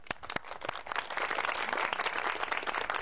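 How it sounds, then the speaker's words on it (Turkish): Applause from a studio audience on a Turkish daytime television show, dense scattered claps building to a steady close wash after a few sharp isolated claps at the start. "Alkış."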